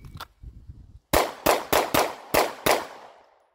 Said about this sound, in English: A presentation, 2 shots to one A zone, 2 shots to the other A zone, and 2 shots back to the original A zone